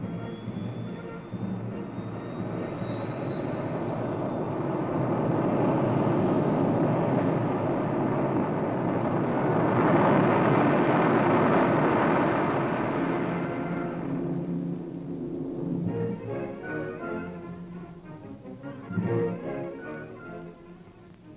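A turbojet engine roars and swells as an aircraft takes off, a rising whine above the rumble, then it fades into quieter irregular engine noise.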